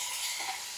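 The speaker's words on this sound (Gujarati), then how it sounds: "હિંગ નાખી દીધી, અને હવે ટમેટા નાખ્યા." Tomatoes dropped into hot oil tempered with cumin and asafoetida in a home kitchen, giving a steady close hiss of frying that swells briefly mid-way, alone without talk.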